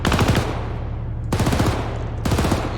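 A gun firing in the video game Arma 3, with three loud bursts of rapid automatic shots, each followed by a long booming tail that rolls off before the next burst.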